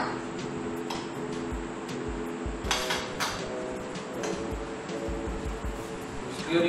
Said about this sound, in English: Stirring well